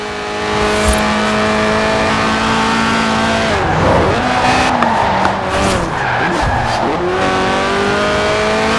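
A Lotus Elise Sport 190 with its 1.8-litre engine revving toward 8,000 RPM in Forza Horizon 4, a loud, continuous engine note rising and falling through gear changes, with squealing tyres skidding midway and no talk over it.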